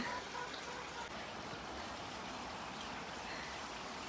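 Water runs steadily into a pool being filled, a continuous faint rushing hiss with no change across the whole stretch.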